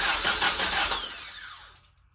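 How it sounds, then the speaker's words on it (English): A 1952 Willys M38 Jeep with a newly fitted replacement for its old 24-volt starter cranks the engine over in a garage, giving a loud, steady churning burst that fades away over about two seconds, with no talking. "Essentially, we should hear the starter turn over."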